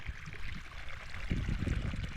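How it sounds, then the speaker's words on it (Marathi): Water runs along an irrigation channel on a winter farm in the Konkan region. It is a steady, moderately close rushing flow with low gurgles, and no voices. "आज पाटाचा मोठाच पाणी गेलेला"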